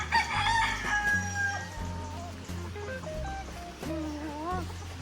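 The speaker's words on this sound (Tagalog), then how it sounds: "Dagang kay manok, ang daming manok ni Bimbo dyan." A rooster crows repeatedly, close and loud, while other chickens cluck and call around it, layered and overlapping.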